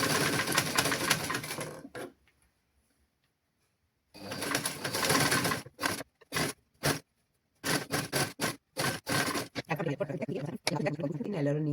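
A sewing machine stitching children's clothing, running in fast mechanical bursts that start and stop with short pauses between them, close and loud, and a voice can be heard speaking around the stitching.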